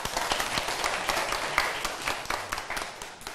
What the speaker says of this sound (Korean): 박수 한번 치세요.